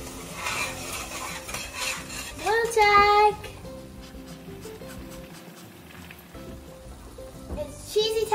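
Spaghetti sauce being stirred in a pot in a home kitchen, a steady scraping and bubbling with faint clinks of a utensil, with a voice and other talk breaking in over it.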